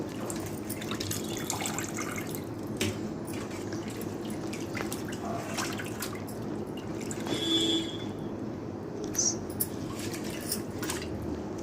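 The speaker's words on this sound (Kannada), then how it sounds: "1 kg ಚಿಕನ್ನ ಚೆಂದಾಗಿ ತೊಳೆದು ಇಟ್ಕೊಬೇಕು" Raw chicken being washed under running water, a steady close splashing and trickling from a tap with occasional drips and soft knocks of a vessel.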